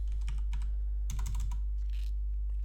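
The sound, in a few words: typing Python code on a computer keyboard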